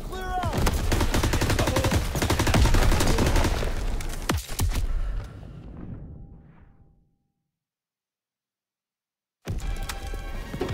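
Dense gunfire from the World War II shooter Call of Duty WWII comes as rapid automatic bursts and single shots layered over battle noise. The din fades into near silence and then the firing returns.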